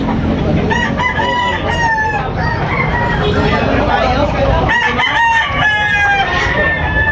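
Roosters crow repeatedly, several overlapping calls near and far, over a steady bed of farmyard noise with faint voices, at a gamefowl yard.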